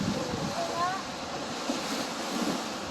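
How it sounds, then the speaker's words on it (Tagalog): Ocean waves wash in a continuous surf roar at Winnipeg Beach, mixed with wind buffeting the microphone; faint voices murmur underneath. "Ano masasabi ninyo sa alon?"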